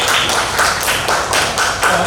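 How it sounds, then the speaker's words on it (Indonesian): A short burst of classroom clapping breaks out as students are praised for their answers, the dense hand claps loud and close and pulsing in a few uneven waves. "tepuk tangan untuk jawaban teman-teman saya"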